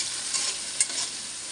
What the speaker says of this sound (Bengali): এগুলো পেঁয়াজ আর চিংড়ি মাছ ভাজতেছে